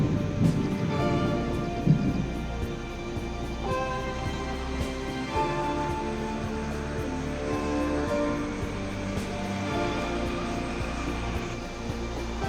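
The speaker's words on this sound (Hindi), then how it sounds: "बिजली कड़क रही है, हल्की हल्की बूंदाबांदी अभी चल रही है।" Thunder rumbles low and steady with light drizzle falling at night at a rooftop camping spot, a continuous deep roll with a few sharper cracks and soft rain texture throughout.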